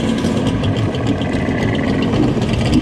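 An X2 minibike engine fitted with a pumper carburetor runs steadily and loudly up close, a continuous buzzing drone with no talk.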